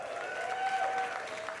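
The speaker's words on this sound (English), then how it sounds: "My round of applause." Comedy show audience applauding, a steady close wash of clapping over a sustained tone, lasting under two seconds with no speech.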